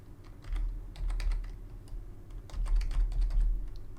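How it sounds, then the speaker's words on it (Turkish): Keys clatter on a computer keyboard in quick, uneven bursts while a new account is set up for Ethereum mining on an Nvidia 1660 graphics card, close and fairly clear over a low background hum. "Yazıyorum hemen."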